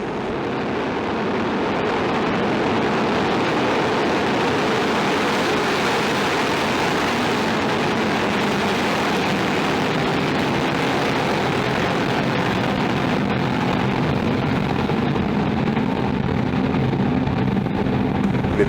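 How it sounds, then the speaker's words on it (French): A Soyuz ST-B rocket lifts off on flight VS16 carrying Hispasat 36W-1, a loud, broad, continuous roar that swells in the first seconds and then holds steady and heavy throughout. "10, 9, 8, 7, 6, 5, 4, 3, 2, 1, top. Et décollage VS16."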